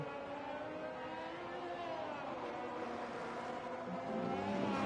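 Ferrari-powered Haas Formula 1 race car engine in a racing video game, a steady high-pitched drone with shifting harmonics, rising slightly louder near the end.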